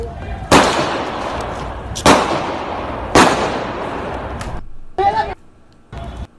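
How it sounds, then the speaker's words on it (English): Gunfire on a Portland street during a Proud Boys clash, three sharp loud bangs roughly a second apart, each with a long decaying tail, followed by two shorter bursts of noise. "Then there's gunshots."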